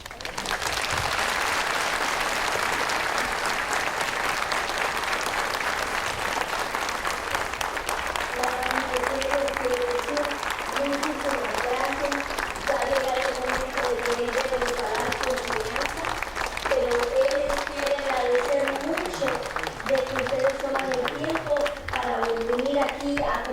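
Large audience applause at a gathering, sustained loud clapping throughout; from about the midpoint a person's voice rises over the clapping and keeps going.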